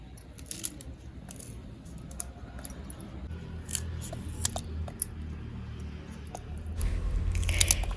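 Carrots and beans are cut with a knife for a vegetable kurma, making irregular crisp crunching chops and sharp clicks against a board, close and fairly quiet, with a heavier thud toward the end.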